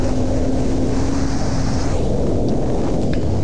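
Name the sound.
riding a 2005 Yamaha R6 motorcycle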